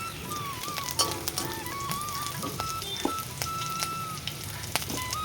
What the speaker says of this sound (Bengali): পেঁয়াজটা ঝালটা একটু ভেজে নিই